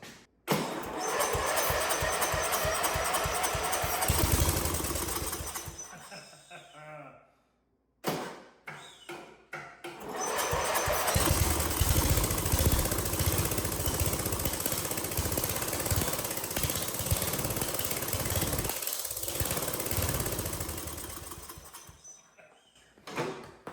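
A classic Murray lawn mower's small engine running after four years parked, a loud rattling, popping drone that cuts out briefly and catches again before fading near the end.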